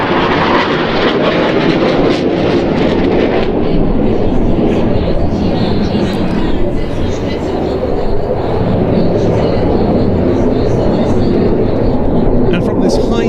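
A Saab Gripen fighter jet roars through a high-speed pass at an air show, a loud continuous broadband engine rush with a commentator talking over it.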